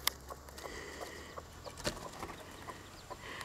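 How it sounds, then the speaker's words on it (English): Chickens clucking softly near a Seabright hen with her chicks, scattered short clucks and peeps over a low steady background hum, fairly faint. "You see a little chickie there, two little chickies."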